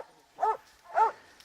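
A hunting dog on a hog hunt gives two short, whining yelps about half a second apart, moderately close, with faint background noise between them.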